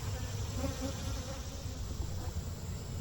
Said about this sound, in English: I set the hive body back on top of the stack so it can serve as a funnel as I shake the bees off